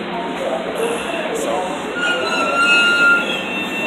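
A non-passenger train rumbles past nearby with a steady roar and faint high metallic squeals from the wheels.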